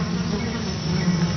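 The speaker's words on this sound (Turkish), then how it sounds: "Sinekler kanatlarını saniyede yaklaşık 250 kere çırpar." Flies buzz in flight as a steady, close insect drone with a low hum, continuous and even for the brief moment.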